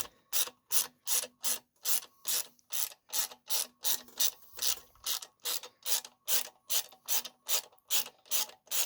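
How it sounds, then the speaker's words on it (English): Ratchet wrench turning out a bolt on a 2001 Kawasaki ZRX 1200 motorcycle, about twenty evenly spaced close clicking strokes in a steady rhythm, with no talking. "we're going to take this wee bolt here out next, and then this plate"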